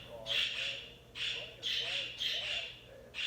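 Pet birds squawk in harsh, shrill bursts, several rasping calls in close succession at fairly low volume indoors, with a voice speaking faintly beneath.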